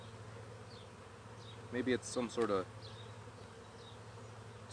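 Honeybees drone in a steady, faint hum around an open beehive during an inspection, while someone talks briefly over them.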